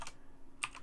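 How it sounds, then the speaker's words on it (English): Brief keystrokes on a computer keyboard, a quick pair of clicks followed by another sharp tap after a short pause, close and distinct. "We're gonna just type"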